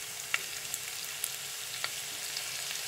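Ginger, onion and garlic sizzle in olive oil and ghee, a steady soft frying hiss with a few faint pops and crackles, no voices.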